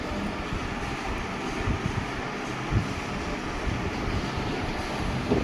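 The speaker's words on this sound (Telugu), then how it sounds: "ఇప్పుడు ఈ ఖాళీ ఏదైతే ఖాళీ కప్ ఉందో ఇందులో ఈ వాటర్ పట్టుకోవడం జరుగుతుంది" Alkaline water pours from a 5-litre can into an empty cup, a steady rushing splash that runs close and continuous through the whole stretch.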